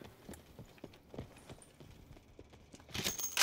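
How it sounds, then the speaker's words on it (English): Footsteps in Call of Duty Blackout thud at an uneven pace across the ground, close and fairly distinct, with a louder burst of game noise at the end and no talking. "I can hear footsteps quite loudly here."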